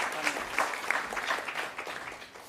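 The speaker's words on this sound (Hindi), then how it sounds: "जोरदार तालियां बजाइए।" A theater festival audience applauds a play's performers, with dense, steady clapping from a crowd that slowly fades over a couple of seconds and has no speech over it.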